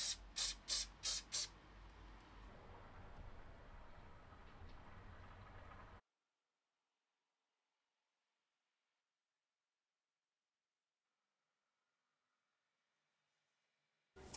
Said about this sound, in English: Now I'm going to spray this with the fixative